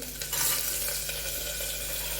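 Carrot, chili, green beans and cabbage hiss as they go into hot tempering oil, a short louder burst at the start settling into a steady sizzle.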